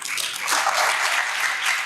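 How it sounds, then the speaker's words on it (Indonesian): An audience at a leadership and religious-scholarship workshop breaks into applause, a dense, even wash of many hands clapping at close range for about two seconds. "Tidak usah tepuk tangan,"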